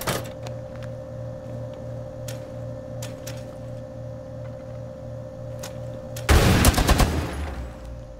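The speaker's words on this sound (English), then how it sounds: "they know I've got a machine gun in here" A machine gun in Rainbow Six Siege, Kafe Dostoyevsky map, rips off a loud, dense burst of rapid shots near the end, after a stretch of steady low hum with scattered faint clicks.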